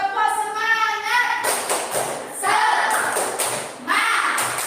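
A school class does tepuk semangat, a rhythmic spirit-clapping routine, with sharp bursts of claps and taps in a patterned beat, mixed with children's chanting voices.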